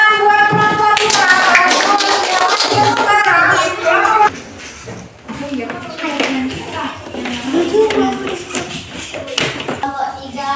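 Schoolchildren in a classroom clap together for group 2, a brisk, close burst of patterned hand taps that thins out, with children's voices chattering over the later part.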